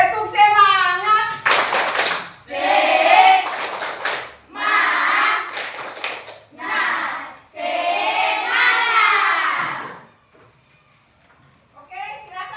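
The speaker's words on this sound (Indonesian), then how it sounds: "Tepuk semangat." A class of children does a rhythmic spirit clap, in which bursts of patterned clapping alternate with shouted chanting voices. The clapping and chanting fill the room, then a short quiet follows before more voices.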